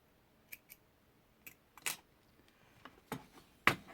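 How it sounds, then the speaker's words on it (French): Scissors cutting weaving thread at a loom, heard as several crisp, close snips spaced unevenly in a quiet room. "J'ai oublié de couper le fil."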